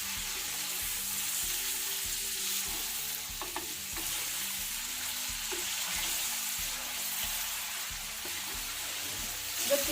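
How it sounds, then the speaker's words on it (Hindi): Chicken frying in a pot for chicken pulao while a spoon slowly stirs it, with a steady sizzle and occasional scraping taps of the spoon, close and continuous with no talking. "चिकन मैंने डाल दिया है। अब इसको 7 से 8 मिनट के लिए फ्राई करेंगे।"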